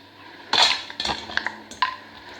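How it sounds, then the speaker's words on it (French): Potatoes being mixed in a glass or ceramic salad bowl for a vegetable gratin, with four sharp clinks and scrapes of a utensil against the bowl, close and clear, spaced about half a second apart. "Dans le saladier, on va mélanger les pommes de terre"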